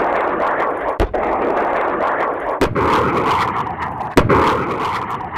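Distant explosion sound effects from the Project Reality game mod, with several deep booming blasts rolling over a rumbling battlefield background, loud and separated by a second or two.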